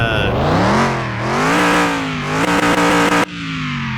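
A car engine in the video game Car Mechanic Simulator 2021 revs loudly up and down nearby, its pitch climbing and falling, then a short stuttering burst before it cuts to a lower idle.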